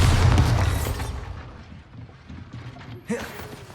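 A Bombarda spell explosion in Hogwarts Legacy lands as a heavy boom at the start, its rumble fading over a second or so, followed by a quieter mechanical clatter and a smaller thud near the end.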